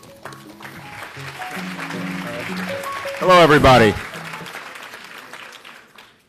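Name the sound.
audience applause for the master of ceremony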